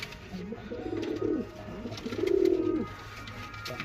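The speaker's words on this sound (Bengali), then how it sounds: "এক জোড়া চেন্নাই পায়রা দেখো" A pair of pure Chennai pigeons, a Kalanka male and a green-eyed female, coo close by: two soft, throaty rolling coos, the second longer and louder, with a quiet background between them.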